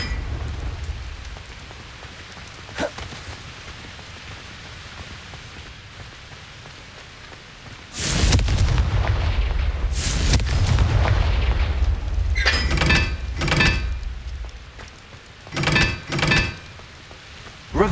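Confringo blasting spells in the Hogwarts Legacy video game, several sharp loud bursts over steady rain-like ambience: one small pop, then two big booming blasts with long rumbles, followed by clusters of quicker crackling impacts.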